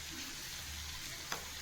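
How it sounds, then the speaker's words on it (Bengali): Animal fat fries with potato and onion in a pan, giving a quiet, steady sizzle with one brief stirring knock near the end. "চর্বিটা দিয়ে ভাজা ভাজা হচ্ছে"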